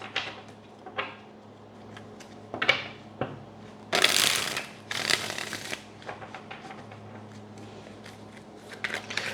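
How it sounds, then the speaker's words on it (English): Tarot cards being shuffled in a few separate bursts of riffling and slapping, close and fairly loud, with quiet pauses between and a steady low hum underneath. "I'm gonna shuffle twice."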